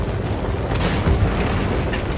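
A bridge is blown up with gunfire in the Just Cause 3 video game, a loud, sustained booming explosion with deep rumble and crackling debris that fills the whole moment.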